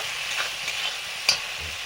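Chopped onion, chili and ginger fry in a pan, a steady close sizzle with soft stirring scrapes and one sharp utensil knock, no voices.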